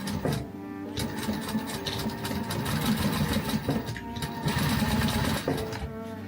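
A sewing machine stitches a water bottle bag in quick, close bursts of rapid mechanical clatter, stopping briefly and starting again as the seam is back-stitched.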